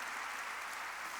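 A church congregation claps together in a short, dense burst of applause at a Korean worship service, steady and fairly loud with no voices over it.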